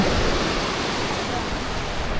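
Rough surf breaking steadily on a clean beach, a dense continuous wash of churning water with no gaps, close and fairly loud throughout.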